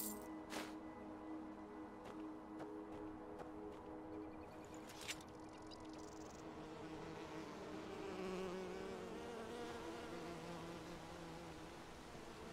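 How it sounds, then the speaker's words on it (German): Swarm of bees buzzing in the fantasy video game Enderal, a steady, dense drone layered with many overlapping wingbeat tones, continuous throughout with a few faint clicks near the start and no talking. "Okay, viele Bienen hört man auf jeden Fall."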